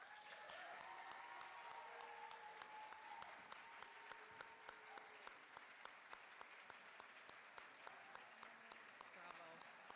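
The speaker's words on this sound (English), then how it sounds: "Seniors, please stand for us to give you another round of applause." Applause from the audience at a college senior student-athlete award ceremony, steady and moderately distant, with regular sharp ticks on top and a voice or tones faintly underneath throughout.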